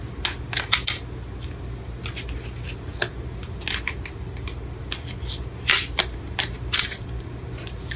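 Tarot cards are shuffled in a series of quick crisp riffles and flicks, with short bursts spaced irregularly and heard up close in a quiet room.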